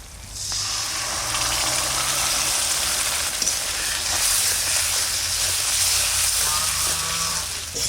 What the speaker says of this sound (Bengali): পোস্ত বাটাটা জল দিয়ে গোলানো দিয়ে দেবো।